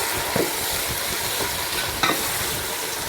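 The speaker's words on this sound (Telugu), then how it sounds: "బాగా వేపుకుందాం ఆయిల్లో" Mint and tomatoes sizzle in hot oil in a pan on a wood-fired stove, with a steady, close frying hiss and occasional scraping stirs, no talking.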